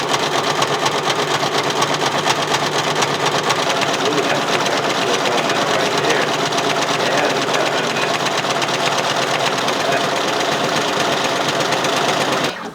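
A Brother Persona embroidery machine sews a satin stitch on a hat, giving a steady, loud, fast mechanical whirr and rattle that runs unbroken for about twelve seconds before it stops.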